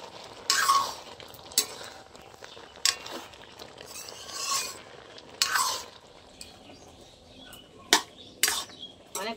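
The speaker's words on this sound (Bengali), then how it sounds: "একটু নেড়ে দেবো আমি।" Homemade tomato and beetroot sauce in a pot being stirred with a utensil, giving intermittent scraping and clinking strokes over a soft bubbling background, fairly close and moderate in level.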